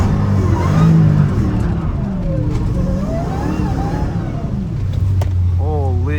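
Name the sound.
850 hp Hellcat Redeye engine revving in rain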